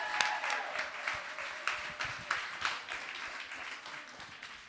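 An audience at a live evening entertainment event claps steadily for several seconds, heard from a distance. The sound is dense but not loud, with a few sharp single claps standing out before it slowly fades.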